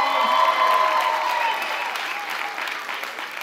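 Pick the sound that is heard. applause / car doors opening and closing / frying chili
applause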